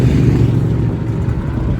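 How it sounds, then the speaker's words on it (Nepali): A motorbike engine rumbles loud and close, a steady low drone that eases slightly as it goes by, with no other sound over it. "राम्रो बाइक रहेछ"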